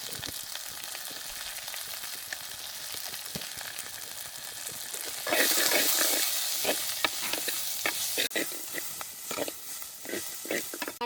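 Crushed ginger, garlic and turmeric sauté in hot oil in a village kitchen, a steady sizzle that swells sharply halfway through with scraping stir strokes.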